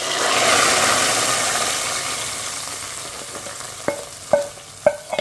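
Onions fry in a pan for an egg and bitter gourd dish, a broad hiss that swells and then eases, with a few sharp spatula knocks near the end.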